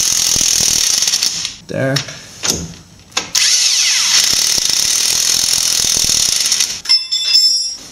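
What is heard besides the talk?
ratchet wrench on Subaru Forester front strut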